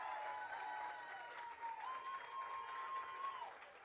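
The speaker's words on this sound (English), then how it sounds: "We hear the cheering crowds of the award ceremony for Women's Masters." Crowd at an outdoor Women's Masters award ceremony at the World Ultimate Championships, applauding and cheering steadily, heard at a distance with a faint whistle-like tone gliding over it.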